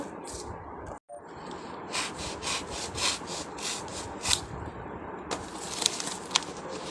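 Paper being cut by hand, a dry rasping scrape repeating in short strokes close by, with one brief pause early on and no talk.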